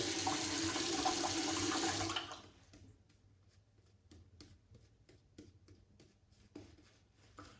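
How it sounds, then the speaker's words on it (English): Water splashes onto a badger shaving brush resting on Haslinger sheep's milk soap, a loud rushing spray for about two seconds, then quiet with faint scattered drips and small taps. "I sprinkle a bit of water on the top of this brush and see if this soap can take it"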